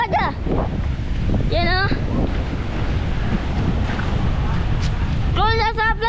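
Heavy wind roars and surf crashes continuously close by during a storm surge on a coastal shore, with brief raised voices breaking through the turbulent noise.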